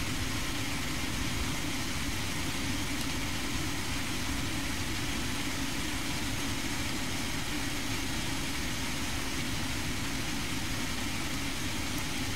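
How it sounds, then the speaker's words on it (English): Idling engines of a Lockheed L1011 airliner in the Prepar3D flight simulator: a steady, even low rumble with broad hiss that holds constant throughout, no voices. "engines are virtually idled."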